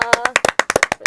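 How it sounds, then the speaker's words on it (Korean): A burst of close, crisp hand claps from a small group closing out a Korean talk-show discussion, about a dozen sharp uneven strikes packed into a second, with no voices over them. "자, 오늘 여기서 박수 치며 마칠까요?"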